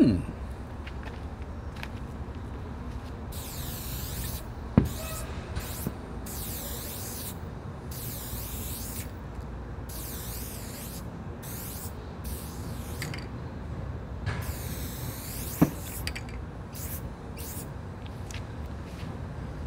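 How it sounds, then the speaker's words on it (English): A Rust-Oleum spray paint can fitted with a New York Fat Cap sprays in repeated hissing bursts of varying length, close and fairly loud, with a few clicks and rattles between the sprays. "let's go ahead and try out the New York Fat Cap"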